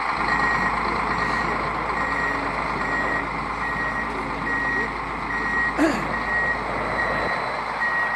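A snow groomer's reversing alarm beeps in a steady, evenly spaced series over a loud idling engine rumble.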